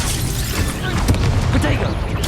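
In Hogwarts Legacy, an Incendio fire spell bursts out as a loud, close whooshing blast with a booming low rumble, sustained through a dense spell-combat mix.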